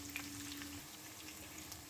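Chopped ginger sizzling in hot tempering oil for lemon pulihora, a continuous close crackle and hiss with small pops and a faint stirring scrape.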